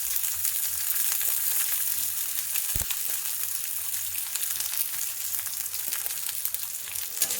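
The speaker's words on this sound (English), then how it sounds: "Now I am adding onions and the curry leaves and the green chili." Onions, curry leaves and green chili sizzling in a hot pan for green papaya bharta, a steady close frying hiss running evenly throughout with one brief low thump partway through.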